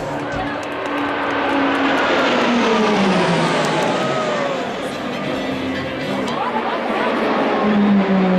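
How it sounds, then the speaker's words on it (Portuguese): A Super Tucano turboprop makes a loud, sustained pass at an air show, its engine roar sweeping downward in pitch as it flies by, with faint crowd chatter underneath. "O Super Tucano."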